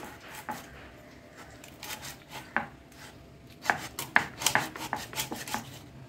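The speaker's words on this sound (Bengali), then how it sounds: "আর এই মাছটাকে, মাথাটাকে মাঝখান থেকে চিড়ে দিচ্ছি।" A knife splits a hilsa fish head down the middle, a series of close, sharp chopping knocks on a board that grows denser toward the end, with no talking.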